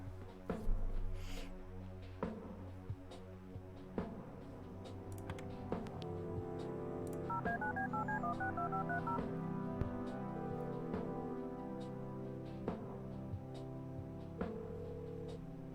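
Telephone keypad tones being dialed in the point-and-click game Kathy Rain, a run of short beeps in a steady rhythm over soft background music, fairly close and clear.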